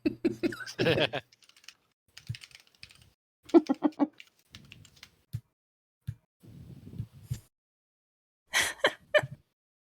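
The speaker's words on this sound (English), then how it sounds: "You can hear me typing now." Irregular clusters of computer keyboard keystrokes clatter close to the mic in short bursts separated by pauses, with a few faint voices and a brief laugh in the background.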